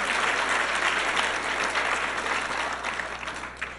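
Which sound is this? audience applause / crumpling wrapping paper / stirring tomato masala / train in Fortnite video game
audience applause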